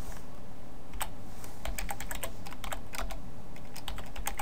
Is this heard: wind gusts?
no